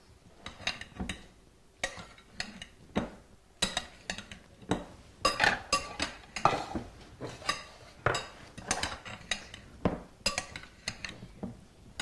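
A utensil clinks and scrapes against a pot while beef stroganoff is stirred, in irregular close-up knocks and taps at a fairly quiet level, with no talking.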